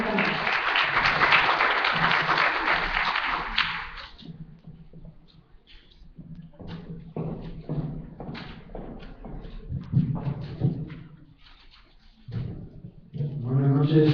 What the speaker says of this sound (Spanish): Demos pues un fuerte aplauso al doctor PhD Antonio Salamanca para todos ustedes en esta noche